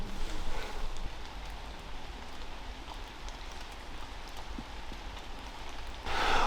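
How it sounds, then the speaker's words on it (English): Steady rain patters outdoors on a murky day in the Wye Valley woods near Trellech, a continuous hiss that holds level throughout and swells louder near the end, with no voices. "there's a bit of rain about at the moment"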